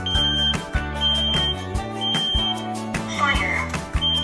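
A combination carbon monoxide and smoke detector blares its test alarm after the button is pressed, sounding loud, piercing repeated beeps in a regular pulsing rhythm up close, with a voice heard briefly alongside.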